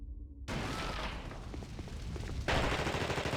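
A grenade explosion in a horror game goes off suddenly as one loud blast, then a roaring crackle of debris, with a second surge of noise near the end.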